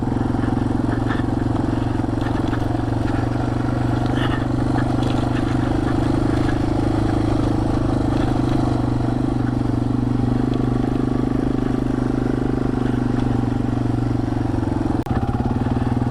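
A small motorbike is ridden through the woods, its engine droning steadily and loudly from close by, with occasional clatter over the ground.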